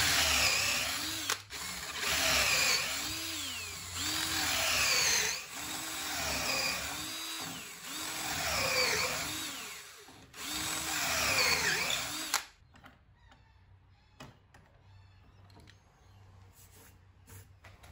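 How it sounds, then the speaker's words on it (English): A power drill whines loudly through several bursts, its pitch dipping as it bores holes into old timber, then stops, leaving quiet clicks and handling noise. "use the same spacer from the reference edge on the uprights to drill the corresponding holes"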